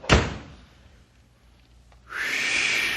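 A door slams shut with one sharp, loud bang at the start, followed by a low quiet room hum and then a rising rush of noise.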